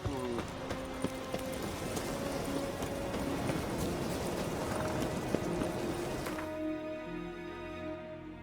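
Horse hooves clip-clop steadily at close range in The Witcher 3 for most of the clip, over game music. The hoofbeats stop near the end, leaving the music ringing on alone.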